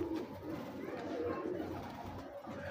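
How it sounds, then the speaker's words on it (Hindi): Soft, low pigeon coos repeat close by, with a murmuring voice and light background noise running underneath. "बड़ा अच्छा कबूतर है"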